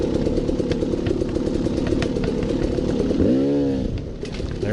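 A motorcycle engine rumbles steadily on Texas slick rock granite, then the throttle is snapped open in a sharp rising rev that quickly drops back, loud and close, with no talking.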